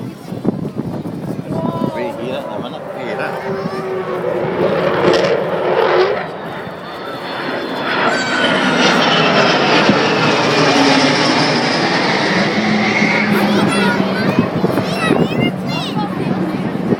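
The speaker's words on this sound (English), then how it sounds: "This is it, because this is one mother of an aeroplane." An Avro Vulcan bomber jet flies past a watching crowd. A loud, rushing roar builds and swells, staying heavy and close for the second half, with voices audible under it.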